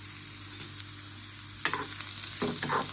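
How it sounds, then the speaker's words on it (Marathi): Bitter gourd roasts in a pan with a steady close sizzle, and a couple of louder stirring scrapes come near the end, with no voice. "कारली पण अशी छान त्याची भाजून घ्यायची."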